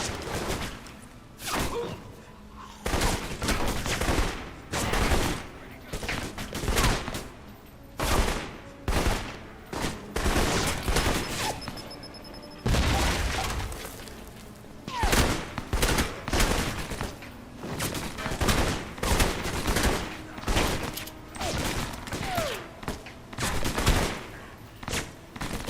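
Gunfire in the Alpha Protocol video game, a long run of rapid, loud shots and bursts in quick succession, dense clusters broken by brief pauses, with almost no talk over it.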